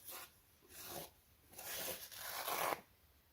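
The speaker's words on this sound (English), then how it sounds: "Here's some nice paper towel" Benchmade OTF knife blade, freshly sharpened, slicing through paper towel, heard as faint, close, dry rasping tears in a few short strokes, the last ones longer, with no talk.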